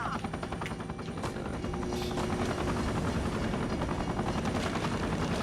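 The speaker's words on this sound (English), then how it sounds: "if the helicopter was smart, it'd be probably trying to gun down the thing from that far away" A helicopter from The Incredibles video game thumps steadily and loudly throughout, its rotor chop mixed with bursts of gunfire and game effects.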